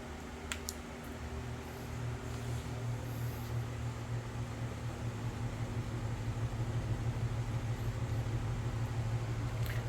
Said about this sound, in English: Austin, go ahead and plug up the fast motor now, and let's see what happens.